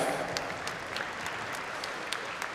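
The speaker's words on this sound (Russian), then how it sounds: "Ваши аплодисменты, Максим Дакаев." Steady applause from an audience at an award moment of the All-Russian forum on developing small towns and historic settlements, dense clapping that carries on throughout.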